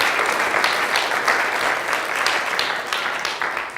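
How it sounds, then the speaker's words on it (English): A sustained round of applause from an audience at a talk, dense steady clapping that fills the room at an even level from start to finish. "you can give a round of applause for her"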